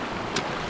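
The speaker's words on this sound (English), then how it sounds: "Just crossing Mullins Creek now." Rushing water of Mullins Creek, on a West Coast backcountry route, flowing around someone wading across on foot; a steady broadband wash fills the short moment, with a brief splash midway.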